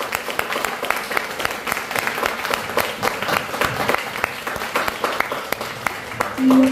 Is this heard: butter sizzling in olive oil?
no